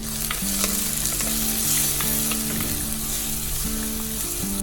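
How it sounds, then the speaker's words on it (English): Curry leaves, green chilies and sliced onion sauté in hot oil for a cuttlefish curry, giving a loud, continuous sizzle and crackle with stirring clinks throughout, and no talking. "curry leaves, green chilies and sliced onion. Saute well until golden brown."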